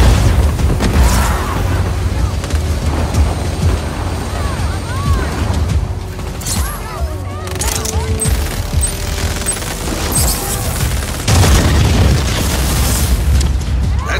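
A wind cannon's rear intake pod blowing up in Just Cause 4, heavy rumbling booms and crackling debris over a constant loud roar of wind and machinery, with a second surge of blasts near the end.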